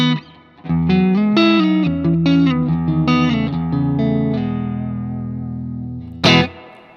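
Electric guitar through a Sonicake Pocket Master running a Dumble push amp profile with spring reverb, played as a slightly gritty melodic phrase of notes and chords that ring out into a long reverb tail, then a short strum near the end.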